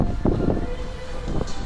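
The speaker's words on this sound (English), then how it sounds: "very windy today" Strong wind buffets the microphone at an outdoor amusement park, a continuous low, rumbling roar that swells and gusts throughout.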